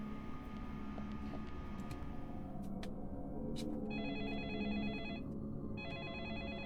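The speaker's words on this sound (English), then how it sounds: "Another creepy phone call." An electronic telephone rings twice in a horror video game, a warbling trilled ring in two bursts over a dense, droning low ambient background, with no one speaking.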